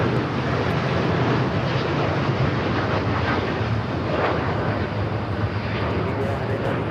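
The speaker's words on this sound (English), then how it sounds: "Flight 8, taking off to Paris on the 787-9 Dreamliner" An Air Tahiti Nui Boeing 787-9 Dreamliner departs LAX for Paris, its powerful, sustained engine rumble filling the whole moment at close, steady volume.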